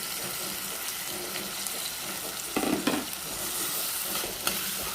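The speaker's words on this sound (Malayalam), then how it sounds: "ബാക്കിയിലെ തക്കാളിയും ഉള്ളിയും പച്ചമുളകെല്ലാം കൂടിയിട്ട് ഇട്ട് കൊടുക്കാം" Tomatoes, onions and green chilies sizzle in a pan while being stirred, a close steady frying hiss broken by a few brief scraping stirs.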